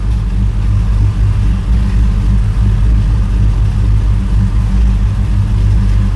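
An LS-swapped 1981 Trans Am with a Pypes Violator exhaust drives along, its V8 producing a loud, steady, deep droning rumble with no pauses or sharp revs.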